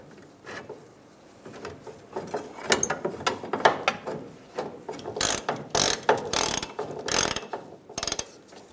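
Ratchet clicks in rapid bursts while a bolt is tightened on a 1999-2006 Chevrolet Silverado 1500 during fuel pump wiring harness work, close and fairly loud, with quieter mechanical handling sounds between the bursts.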